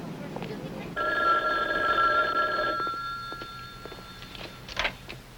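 A telephone rings in a steady electric trill for about two seconds, fairly close, with voices talking before and after and a brief knock near the end.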